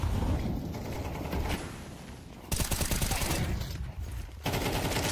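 Rapid automatic gunfire in Counter-Strike 2 during a professional MIBR vs BIG match, shots fired into smoke: dense, loud bursts of rattling shots in several runs, with brief quieter gaps between them.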